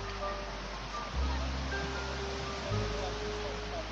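Gentle waves wash steadily onto the shore of Kamper See (Resko Przymorskie) near Rogowo on the Polish Baltic coast, a continuous near surge under heavy low wind rumble, with two louder gusts.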